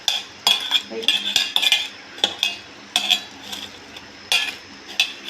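Cutlery clinks and scrapes against a plate or bowl while hot boiled potato is mashed, with repeated close, bright taps in an uneven rhythm.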